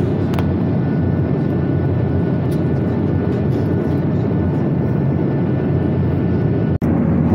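Passenger airplane taking off, heard from inside the cabin as a loud, steady, dense engine roar that fills the whole clip, with a brief click near the end.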